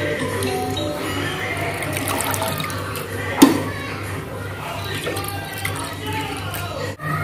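Water splashes and sloshes as goat tripe is rinsed in a vessel, with a continuous wet churning, one sharp knock midway and a thud near the end. No one speaks.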